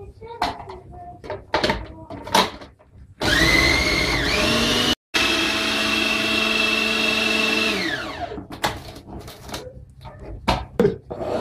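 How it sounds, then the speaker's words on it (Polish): An electric mixer creams soft butter with sugar into a smooth mass, running loud and steady for several seconds with a brief cut, then winding down, with clatter and handling noises before and after. "Masło jest miękkie i musimy je ukręcić z cukrem na taką fajną masę."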